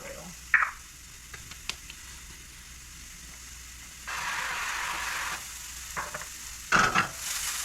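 Oil poured into a hot pan for a pasta bake crackles briefly, then a faint hiss swells into a louder steady sizzle, with a few sharp clinks of utensils close by.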